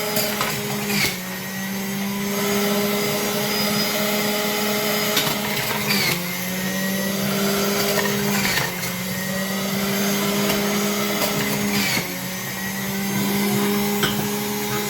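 A juicer grinds apples after a batch of pineapple, a loud steady motor whine running alone throughout, with its pitch dipping briefly at several points as fruit is pushed in.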